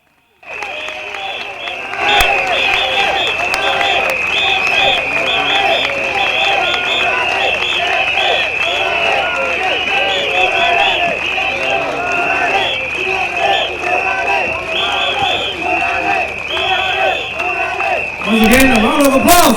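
A large outdoor rally crowd at Bukit Gombak Stadium claps and cheers continuously, loud and dense, with a steady high whistle or tone running through and a brief louder surge near the end.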